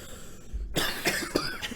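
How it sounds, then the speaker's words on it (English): A single person coughs close by: after a brief hush comes one harsh burst followed by a couple of rougher throaty hacks, loud and isolated with no talking. "They're just going to be coughing up a lung."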